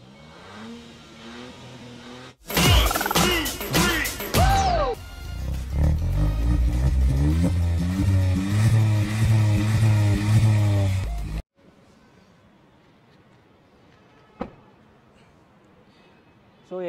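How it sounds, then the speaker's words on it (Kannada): Hyundai Venue N-line with dual exhaust cranks to life with a sharp burst, then holds a loud, sustained rev with rising and falling engine pitch before cutting off abruptly to near silence, followed by faint background sounds. "ಸೊ ಎಕ್ಸಾಸ್ಟ್ ಸೌಂಡು ಕೇಳ್ಸೋಣ ಅವ್ರಿಗೆ."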